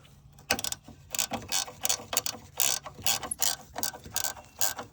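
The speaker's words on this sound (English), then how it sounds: "Take your wrench here and just" A ratchet wrench tightens bolts on the hood release of a 1994–2004 Ford Mustang, giving a quick run of close, crisp clicking bursts in an uneven rhythm with no one talking.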